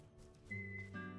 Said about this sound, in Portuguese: Cadê a música do Assobio?